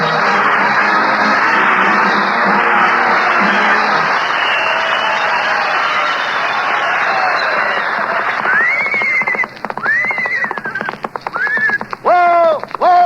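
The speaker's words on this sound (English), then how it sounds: "It's a horse, isn't it?" A horse whinny and clip-clopping hooves as a radio comedy sound effect: a sustained crowd-like roar gives way to several loud, rising-and-falling neighs, closely spaced, followed by a quick patter of hoof clops near the end.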